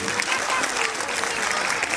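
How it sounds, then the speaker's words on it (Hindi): At a primary school annual day function, the audience gives the children a steady round of applause, brisk and continuous, with a voice faintly audible underneath. "एक जोरदार ताली बच्चों के लिए होनी चाहिए"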